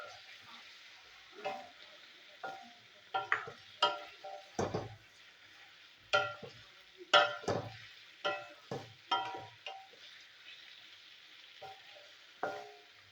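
Tomatoes are stirred and sautéed with rohu fish in a pan, giving a soft background sizzle broken by a series of irregular scraping and clinking stirring strokes, fairly close and moderately quiet.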